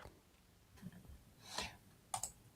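Mouse or keyboard clicking from a participant in a live online chat show, a few faint, sharp clicks spaced irregularly over quiet background noise, with no speech.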